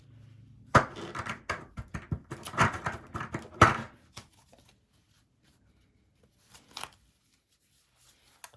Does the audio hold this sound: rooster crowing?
no